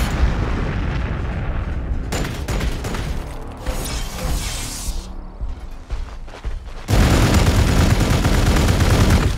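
Units open fire in the strategy game Warhammer 40,000: Gladius, with a dense wall of booming shots and blasts that thins briefly before surging back loud.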